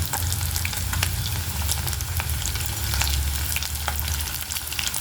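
Potato pieces frying for dum aloo, browned on one side, giving a dense, loud, continuous sizzle close to the pan with faint crackles and no voices.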